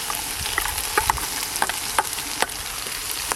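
Spice paste sizzling as it goes into a pan of frying ginger, garlic and onion, a loud steady hiss with repeated metallic stirring clicks at close range, no voices.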